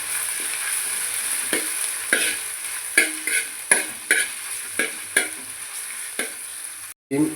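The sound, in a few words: curry leaves, ginger and garlic stir-frying in coconut oil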